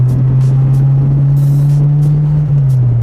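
A Hyundai Accent with a 1500 cc MPI SOHC engine gives a loud, steady engine drone close by, holding an even tone throughout with no voices.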